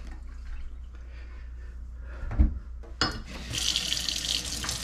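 A faucet turns on and water runs steadily into a sink to wet a knife-sharpening stone, splashing with a bright hiss after a couple of soft clunks.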